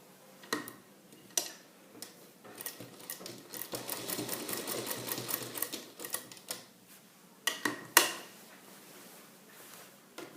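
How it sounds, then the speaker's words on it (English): Sewing machine stitching a rectangle pocket piece for a salwar pant, running in short bursts of rapid ticking stitches with pauses between, one longer steady run in the middle, close and clear with no talk. "now I'm going to stitch on the rectangle piece here"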